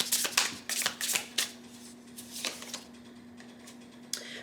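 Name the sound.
tarot cards being shuffled and drawn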